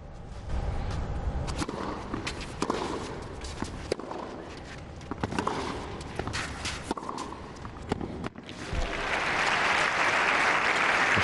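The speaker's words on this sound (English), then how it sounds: "She deserved that round of applause." A tennis crowd at the 2013 Madrid match between Laura Robson and Agnieszka Radwanska breaks into applause that swells and holds near the end, following scattered court sounds, sharp ball strikes and footsteps.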